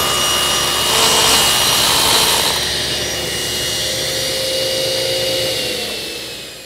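A power tool bevels the end of a wooden table rail in a Greene & Greene–style rafter tail table build. It makes a loud, steady cut with rising abrasive rasping early on, then eases into a lighter whir that fades near the end.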